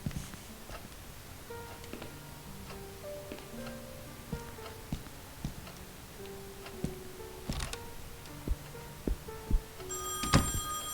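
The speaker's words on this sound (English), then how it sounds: "let's answer the phone" A telephone rings inside the horror video game Song of Horror, its tones faint amid scattered ticks and thunks, with a brighter burst of ringing near the end.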